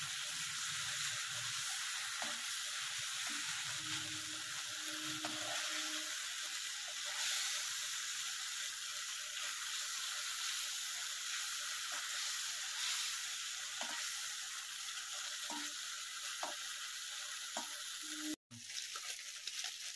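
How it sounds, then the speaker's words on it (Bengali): Whole Bombay duck fish frying in hot oil until reddish, a continuous near sizzle with soft crackles and occasional stirring clinks throughout, no talking. "লাল লাল করে ভেজে নিয়েছি"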